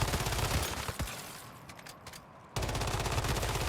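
An M416 rifle in the video game Once Human fires in rapid bursts, dense loud gunfire that breaks off briefly around the middle before resuming, with no voices.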